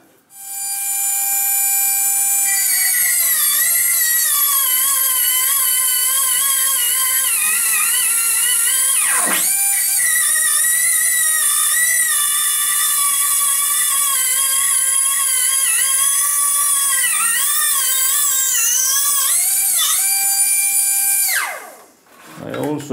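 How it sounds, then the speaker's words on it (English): A micro air die grinder fitted with a diamond cutoff disc whines steadily at high pitch for about twenty seconds, with brief dips in speed as it bites, then spins down near the end. "And now I've changed to this diamond cutoff disc"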